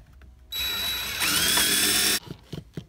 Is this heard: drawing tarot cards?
no